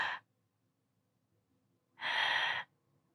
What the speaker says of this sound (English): you're going to end up with a noisy breath like this.